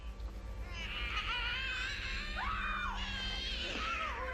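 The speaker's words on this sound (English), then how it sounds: "A screaming girl." A girl screams in a horror film, a long, high, wavering shriek that rises and falls over a steady low rumble of film soundtrack, loud and sustained for several seconds.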